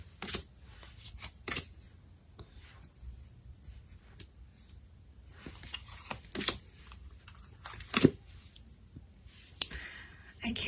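Tarot cards shuffled by hand during a weekend reading, giving scattered soft riffling and slapping bursts with quiet gaps between them, close to the microphone and without talk.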